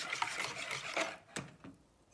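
An egg being stirred into a dough mixture for soft buns, a close, quiet rubbing and scraping of a utensil against the bowl in a few short strokes that fade toward the end.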